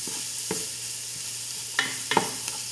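Garlic and onion sizzle in a pan for Filipino arroz caldo while being stirred: a steady close hiss broken by a few sharp utensil scrapes and clinks.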